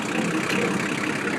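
Kubota M4050 2WD tractor diesel engine running steadily up close, a dense continuous rumble with no talk over it.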